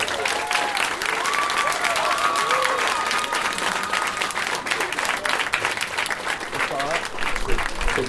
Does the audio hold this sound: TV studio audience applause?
yes